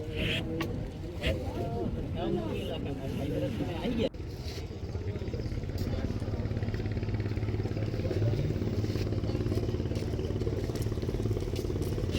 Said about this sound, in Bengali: এই যে বেলতলা ফেরিঘাটে ফেরি এসে ভিড়ছে